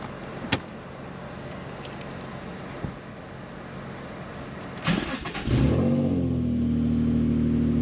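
A drift car on a test drive cranks with a few clunks and clicks, then its engine fires up close by and settles into a steady, loud running hum with no talking.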